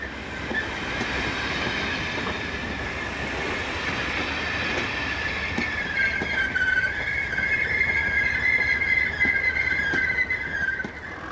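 A passing train on the West Highland Railway, with locomotives at both ends, rumbles steadily with rhythmic wheel clacks and a high metallic squeal of wheels growing louder toward the end.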